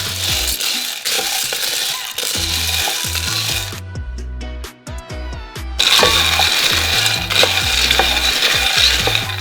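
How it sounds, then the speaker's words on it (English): Noodles sautéing in a pan with constant stirring, a steady loud sizzle with scraping and clinking of the utensil, briefly quieter in the middle before the sizzle returns full. "we're going to saute this, stirring basically constantly because this burns really quick"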